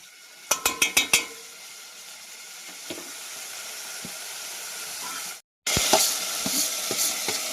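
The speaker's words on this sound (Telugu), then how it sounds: "ఇంకా టమాటా ముక్కలు కూడా వేసేసుకొని బాగా తిప్పేసుకుందాము." Tomato pieces land in hot oil and are stirred in a pan for tomato rice, a few quick clunks of a spoon, then a steady loud sizzle that briefly cuts out and resumes with more stirring knocks.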